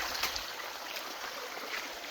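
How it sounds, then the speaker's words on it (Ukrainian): A waterfall in the village of Porohy, a faint continuous rush of flowing water with a soft splash early on and an even hiss that holds to the end. "Отак тягнеться цей водоспад."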